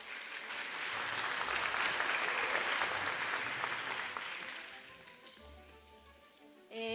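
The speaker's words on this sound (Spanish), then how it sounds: "Fuertes aplausos para Paola." An audience at a talk on the IPCC sixth climate report in Antioquia applauds a speaker, a dense wash of clapping that swells, holds for several seconds, then thins out and fades.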